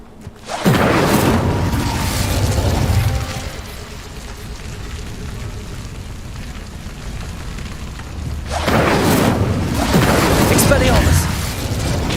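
Incendio fire spell cast in the video game Hogwarts Legacy, two big roaring bursts of flame with a low boom, separated by a sustained rumbling crackle, loud and close.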